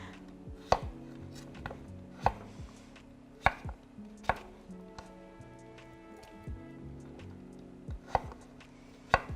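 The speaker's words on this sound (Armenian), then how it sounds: "Մյուս կարտոֆիլները եւս իհարկե հիմա միասին կկտրատենք եւ կավելացնենք։" Potatoes are chopped with a knife on a kitchen board: sharp, isolated knocks at an irregular pace, about eight strikes, quiet and close.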